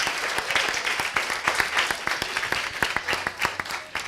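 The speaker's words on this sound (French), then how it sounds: "Bonne main d'applaudissements à tout le monde." Audience applause at a Leucan head-shaving challenge event, dense clapping with distinct sharp claps near the front, continuing steadily without pause.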